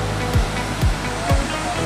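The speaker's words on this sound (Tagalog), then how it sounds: "lumaki yung ilog. Maliit lang yan dati. Ayun, lumawak, lumapad." Floodwater rushing through a swollen river after a flood in the Czech Republic, a dense, loud, continuous roar close by, with a few low thumps.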